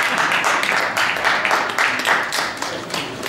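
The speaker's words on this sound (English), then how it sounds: "Keep the applause down, please." Scattered clapping at a boxing press conference in a hall, a modest crowd applauding in uneven bursts at moderate distance, fairly loud and sustained without clear speech over it.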